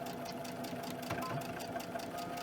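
A sewing machine runs steadily at close range, stitching across a fabric edge to stop it fraying, its rapid needle rhythm and motor hum filling the whole stretch without any speech.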